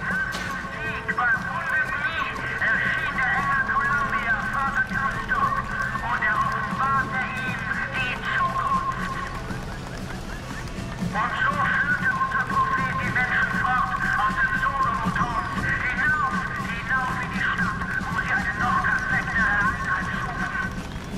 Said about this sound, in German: Mechanisches Pferd.